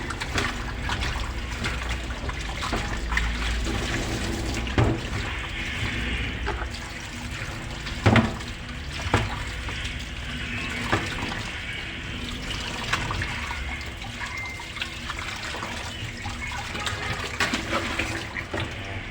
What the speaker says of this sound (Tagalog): Hugasan na natin ng asin.